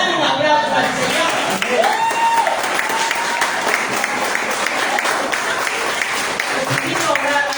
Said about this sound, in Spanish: Voy a dar un aplauso al Señor.